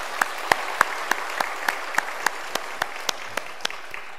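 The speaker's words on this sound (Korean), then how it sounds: "그 하나님께 우리 영광의 박수 올려드리겠습니다." Applause for a church choir (Hallelujah choir) after its hymn: sparse, evenly spaced hand claps in a steady rhythm, crisp and fairly near, with no talking over them.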